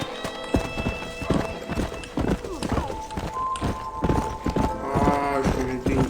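Horse hooves clip-clop in Red Dead Redemption, a brisk irregular run of close, hollow hoof strikes through the whole stretch, with a brief whinny and other game sounds around them.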